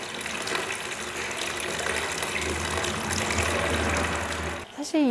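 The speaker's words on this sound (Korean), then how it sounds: "적정 물소리 한번 감상해 보시지요." Water falls steadily and softly from a set height onto a surface at a modern farmhouse beside a wheat field, a continuous gentle splashing flow that stops abruptly near the end.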